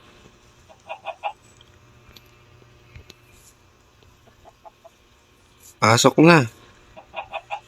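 Minecraft chickens cluck in short bursts, with a louder squawking cry in the middle, while a person speaks briefly in the background.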